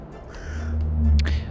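Crows caw in the S.T.A.L.K.E.R.: Clear Sky game, the calls rising over a low, steady ambient rumble in a short burst without talk.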